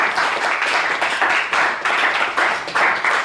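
An audience at a writers' round-table event claps steadily in dense applause, with a faint rhythmic pulse in the crowd noise and no talking.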